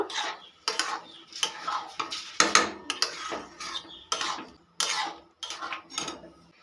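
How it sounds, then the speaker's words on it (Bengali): Boiled peas being stirred into ghugni with cooked potatoes in a pan, a spoon scraping and clanking against the metal in a steady series of strokes, close and fairly loud, with no talking. "এবার আমি আগে থেকে সিদ্ধ করে রাখা মটরগুলো দিয়ে দিলাম খুব ভালো করে মিশিয়ে নেব"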